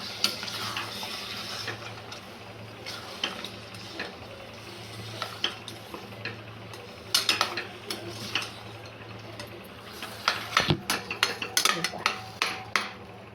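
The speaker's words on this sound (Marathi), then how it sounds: "परत एकदा मिक्स करून घेऊया." A spoon scrapes and clinks against a pot while dudhi (bottle gourd) bhaji is stirred after hot water is added. The strokes come in irregular bursts, sharper and louder in the second half, over a low steady hum.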